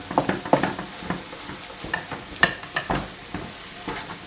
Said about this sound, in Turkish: Böyle eze eze karıştıra karıştıra güzelce pişirelim.